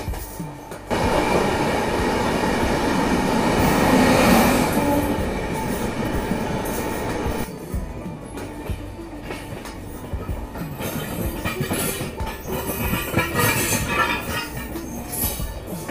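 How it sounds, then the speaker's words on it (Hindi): The Jan Sadharan Express and Bareilly Intercity trains overtake at Ghaziabad station with rumbling wheels, rhythmic clatter on the rails and scattered squeals and clanks, loud at first and then settling into a steadier rolling passage. "यहाँ पे कोई जन साधारण एक्सप्रेस और बरेली इंटरसिटी का भी एक साथ ओवरटेक हो रहा है"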